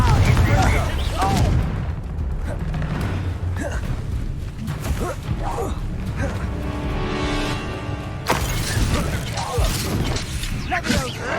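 In Hogwarts Legacy, a Confringo fire spell is cast in combat, giving loud booming blasts and crackling impacts with a ringing tonal swell. A character's voice shouts in the mix.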